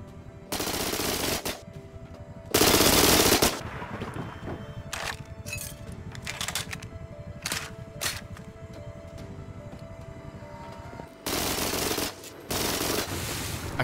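Explosive ammo rattles off in rapid automatic bursts during a raid in the game Rust, with loud sustained volleys near the start and end and scattered sharper shots and impacts between them.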